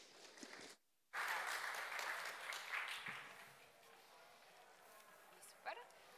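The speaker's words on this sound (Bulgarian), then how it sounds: "Моля, аплодисменти!" A burst of applause from a lecture audience, steady clapping that swells and slowly fades after a brief silent gap.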